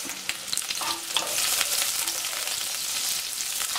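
Chopped onion fries in a pan while breakfast enfrijoladas are being made, with a continuous close crackling sizzle that thickens and grows slightly louder midway. No one speaks over it.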